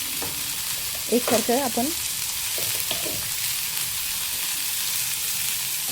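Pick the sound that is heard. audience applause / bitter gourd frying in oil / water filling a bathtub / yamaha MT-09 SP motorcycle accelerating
bitter gourd frying in oil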